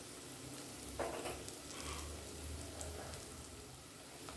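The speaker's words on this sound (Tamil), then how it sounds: "இதை நல்லா வதக்கி விட்டு" Spices with a little sambar powder sizzle and fry steadily in a pan while dal rice is prepared, a soft continuous crackle with faint stirring and no voices.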